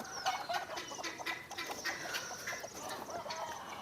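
Native desi village hens cluck in a short burst of repeated, fairly faint calls with busy farmyard noise around them and no talk.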